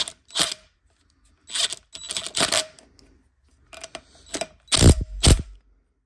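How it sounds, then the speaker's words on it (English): An impact wrench tightens the flywheel nut on a 1954 Johnson 5.5 HP outboard, firing in several short, sharp rattling bursts separated by quiet gaps, loud and close. "I'm going to use the impact and torque it up some."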